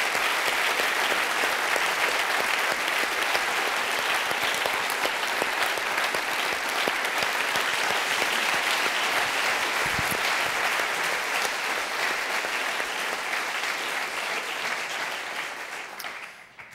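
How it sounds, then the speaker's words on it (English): Sustained applause from a conference audience honouring an international astronaut panel, a dense, steady wash of clapping lasting well over ten seconds before tapering off at the end. "give me a large hand of applause for our panelists"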